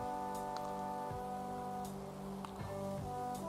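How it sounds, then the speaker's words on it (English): Steady rain pattering on a surface, a continuous even hiss with occasional louder drops, fairly close and alone with no voices. "Oh, it's raining."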